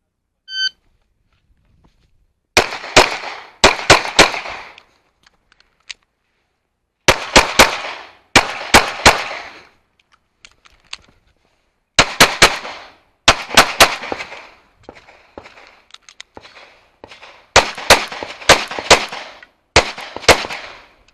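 Pistol gunfire on an IDPA shooting stage in backup-gun division: a short timer beep, then loud, sharp shots fired in quick strings of three to five, separated by brief pauses as the shooter moves between positions.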